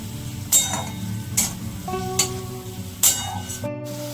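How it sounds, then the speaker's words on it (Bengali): A spatula stirs cooked masala with chopped green chillies in a pan for Bengali egg curry, a soft continuous sizzle broken by four distinct scraping knocks spaced about a second apart, close and fairly loud, no talking. "ভালো করে মশলাটা মিশিয়ে নেব।"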